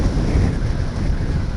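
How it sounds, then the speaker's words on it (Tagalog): Strong wind buffets the microphone while riding a motorcycle, a loud continuous low roar with no pauses and no voices. "Lakas ng hangin."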